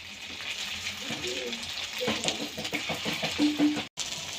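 Sago fritters frying in sunflower oil, a soft steady sizzle under a person talking, with a few clinks from the pan.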